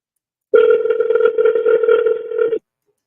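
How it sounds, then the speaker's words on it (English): A steady telephone dial tone sounds alone for about two seconds, loud and close, then cuts off abruptly into silence. "I don't know why it's not dialing now."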